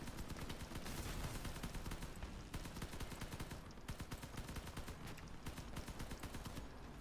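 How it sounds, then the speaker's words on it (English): Rapid bursts of tap-fired gunfire from a vehicle weapon in the online combat game Crossout crackle loudly and continuously, with short pauses between volleys, alone without voices. "Notice I'm doing some tap firing with this."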